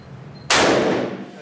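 A single loud gunshot rings out at a shooting range, a sharp close crack that decays over about a second after a quiet lead-in.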